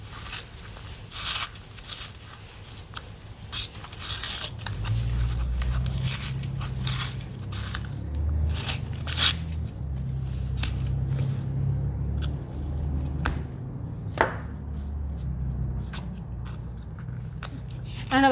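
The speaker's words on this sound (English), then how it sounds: "Let's peel this back." Paper layers are peeled back from a scored journal cover during saddle-stitched bookbinding, giving soft tearing and crackling with scattered sharp rips, close by, while a person talks over part of it.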